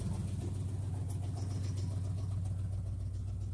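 Chevrolet 5.7 Vortec V8 with a cam and a 3-inch straight pipe idling just after a cold start, a loud, steady, throbbing low rumble with a rhythmic lope and no voices over it.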